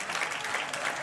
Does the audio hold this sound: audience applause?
yes